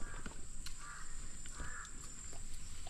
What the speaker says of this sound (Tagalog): Galit yung uwak.